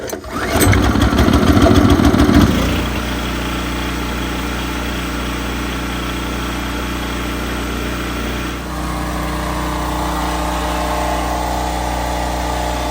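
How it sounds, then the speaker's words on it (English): A Generac portable generator engine fires up after a recoil starter repair, with a loud rough burst on starting that settles into a steady, close running drone, no voices. "Let's see if that motor starts."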